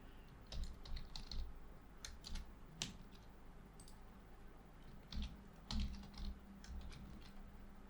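Code typed on a computer keyboard in irregular bursts of crisp key clicks, some louder presses standing out, over a low background hum.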